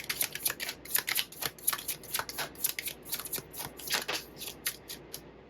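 A deck of tarot cards being shuffled by hand, a close, crisp run of riffling flutters and soft slaps repeating in quick uneven bursts, with no voices.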